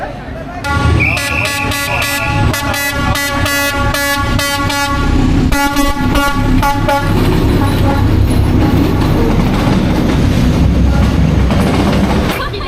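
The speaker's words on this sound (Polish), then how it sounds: "Pociąg przyjeżdża dwa razy dziennie." A train rolls close through Hanoi's narrow train street. Its horn blasts in repeated short toots over the rumble and clatter of the passing cars, with people talking nearby.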